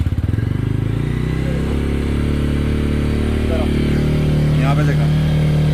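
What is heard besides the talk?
motorcycle engine idling with RPM rising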